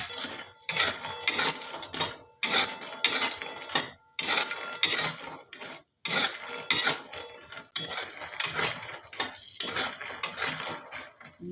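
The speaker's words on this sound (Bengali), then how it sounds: "আমি ডালের বড়িগুলোকে একটু ভেজে নেব।" Dried lentil dumplings (dal bori) being fried in a little oil in a pan alongside chopped onion, with repeated bursts of spatula scraping and clinking against the metal pan, broken by brief pauses; no one speaks.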